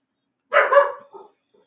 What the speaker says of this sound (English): as my dog barks.